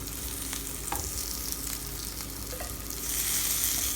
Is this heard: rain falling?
no